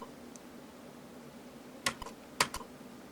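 Keys on a ZX Spectrum home computer keyboard are pressed while typing a game command, giving a few sparse, soft clicks in two small clusters over a low background hum.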